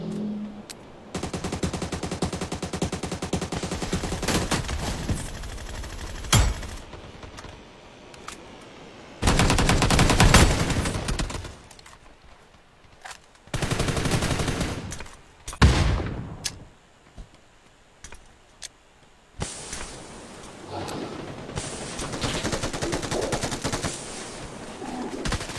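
Gunfire in PUBG on the Erangel map, with SLR and SCAR-L rifles: several separate bursts of loud rapid shots broken by quieter gaps, with faint ambient game sound between.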